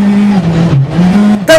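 A high-powered car is floored at full throttle, its engine holding a loud, steady drone that sags briefly in pitch before climbing again and ending in a sharp, bright burst.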